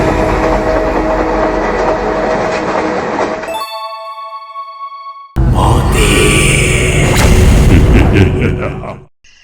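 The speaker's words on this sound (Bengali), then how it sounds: "রাত 12টার ট্রেন।" A train at night used as a sound effect in a Bangla ghost story: a loud rumbling rush of rail cars, a sudden cut to quiet tonal whistle-like lines, then a heavy clattering rumble that fades out abruptly.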